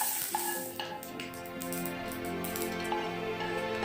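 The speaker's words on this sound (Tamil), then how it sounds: "நல்லா சூடானதுக்கப்புறம் கடுகு உளுத்தம் பருப்பு சேர்த்து பொரிஞ்சு வந்ததுக்கப்புறம் கருவேப்பிலை போட்டு தாளிப்பை ரெடி பண்ணலாம்." Mustard seeds and urad dal crackle and sizzle in hot oil for a tempering poured over radish chutney, a steady close frying hiss with scattered pops and a spoon scraping the pan.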